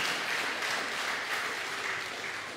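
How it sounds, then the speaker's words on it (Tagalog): A church congregation claps in praise during a Filipino worship service, a steady wash of many hands at moderate volume that tapers slightly as it ends. "Pwede ba natin bigyan ng papuring palakpak ang Panginoon?"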